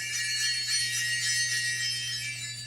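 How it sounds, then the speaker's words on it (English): Silver sleigh bells hung on harnesses ring in a soft, continuous shimmering jingle, faint and sustained throughout over a low steady hum. "ringing the silver sleigh bells that hung from their harnesses"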